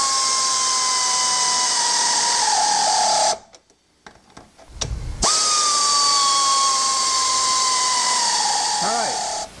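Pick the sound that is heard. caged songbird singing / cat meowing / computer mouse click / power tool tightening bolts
power tool tightening bolts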